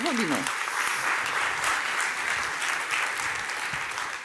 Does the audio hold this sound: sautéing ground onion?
no